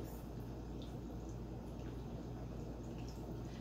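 Filtered water pouring into a smoothie blender, a steady low liquid rush with faint dripping, continuous and close throughout.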